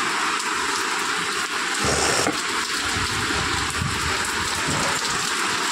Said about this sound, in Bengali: আর ভালো জোরে বৃষ্টি চলে এলো।